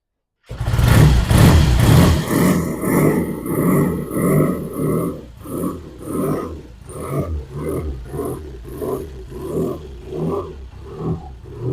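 Triumph T100 motorcycle engine catching and firing up, a loud burst followed by an uneven, lumpy rhythmic idle with pulsing exhaust beats close by.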